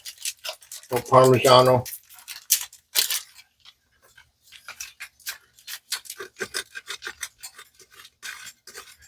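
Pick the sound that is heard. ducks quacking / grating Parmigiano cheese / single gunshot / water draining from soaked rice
grating Parmigiano cheese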